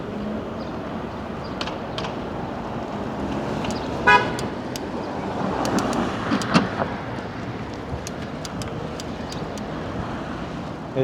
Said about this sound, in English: There seem to be much more cars here in this part of Central Park West compared to the southern part.